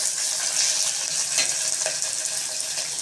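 Slit green chillies fry in hot oil in a pan for a tamarind curry, giving a steady close-up sizzle and crackle with a few stirring scrapes and no talking.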